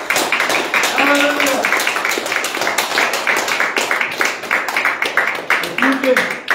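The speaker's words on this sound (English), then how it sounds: "Church, give them a hand clap as they come." Church congregation clapping their hands together in a steady, repeated rhythm at a worship service, close and lively, with a voice speaking over the clapping throughout.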